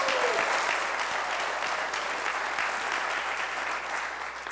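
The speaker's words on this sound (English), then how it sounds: "I said no holding applause, remember?" Audience at a city's state-of-the-city address breaks into sustained applause, many hands clapping in a thick, even wash that stays strong and fades only slightly at the end.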